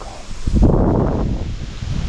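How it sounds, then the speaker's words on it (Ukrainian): Wind gusting outdoors by the water during spinning-rod casting, a steady broad rush that swells in the middle and keeps blowing throughout, with no talk. "тут вітер так дує"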